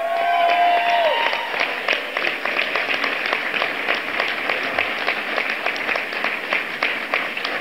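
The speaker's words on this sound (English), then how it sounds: "a big round of applause" A crowd breaks into sustained applause, dense steady clapping with some cheering, loud and continuous throughout.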